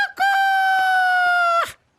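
A rooster crows once, loud and close, a single sustained call lasting about a second and a half before it breaks off into near silence.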